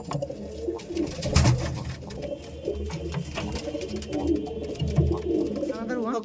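Kaldam pigeons cooing softly and repeatedly at a home pigeon loft, low murmuring coos overlapping one another with some background voices and noise.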